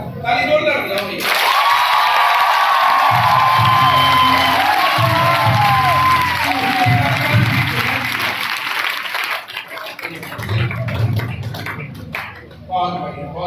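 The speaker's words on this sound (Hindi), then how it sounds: "ताली जोरदार बजाओ भैया।" An audience at a motivational speech event claps and cheers loudly for several seconds, a dense wash of applause with shouting voices that fades out as talk resumes.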